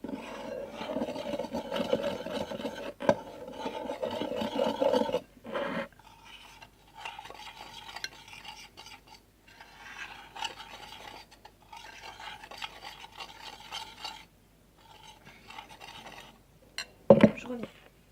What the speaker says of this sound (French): Donc faut bien mélanger.